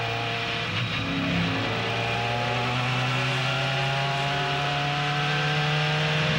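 An ALMS sports racing car engine with a fault idles and runs at low revs at Laguna Seca, a steady droning hum with little rise in pitch, continuous and fairly close.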